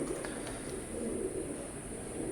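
Teddy pigeons coo in a low, steady murmur that runs throughout, soft and close, with a faint high hiss behind it.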